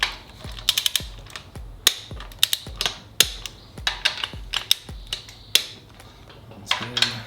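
Torque wrench ratcheting while tightening idler pulleys on a Subaru EJ207 engine during an STI rebuild: rapid bursts of crisp metallic clicks, close and fairly quiet, with short pauses between strokes.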